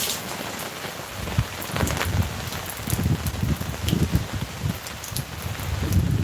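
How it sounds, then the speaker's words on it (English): Freezing rain falls outdoors in a steady broadband patter, with denser bursts of drops striking surfaces nearby and a low rumbling wind underneath, continuous throughout. "Freezing rain."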